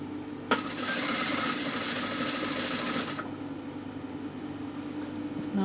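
A sewing machine stitches a seam on a man's kameez, running in one loud, close, steady whirring burst of about two and a half seconds before dropping back to a quieter background hum.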